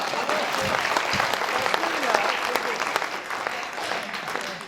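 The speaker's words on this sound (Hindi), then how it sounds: "ताली बजा के बताओ" Steady, dense audience applause fills a poetry gathering (kavi sammelan) in Kotma, sustained at an even level throughout with no break.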